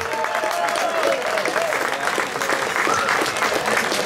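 Loud, steady audience applause fills the whole stretch, dense clapping with a few whistles and scattered voices in the crowd.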